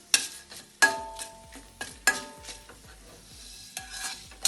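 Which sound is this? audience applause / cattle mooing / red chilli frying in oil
red chilli frying in oil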